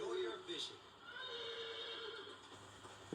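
A horse neighs and whinnies in the Sega Bass Fishing video game on Nintendo Wii, a bright whinny near the start over quiet ambient game sound, with faint clip-clop.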